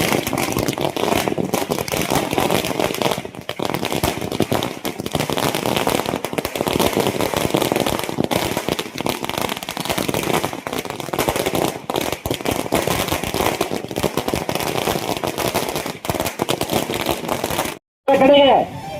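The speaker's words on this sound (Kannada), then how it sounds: "ಪಟಾಕಿ ಸುತ್ತ ಆಗಿರುತ್ತಣ." Strings of firecrackers burst in dense rapid crackling volleys at a street celebration in Chintamani town marking a new chief minister taking office, loud and near, with people talking over the bangs.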